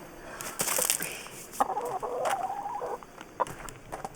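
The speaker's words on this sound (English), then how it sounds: "It's not every day you have a chicken in the shower, is it?" A chicken clucks inside a campervan shower, with a few sharp close clucks followed by a drawn-out throaty call and more scattered clucks.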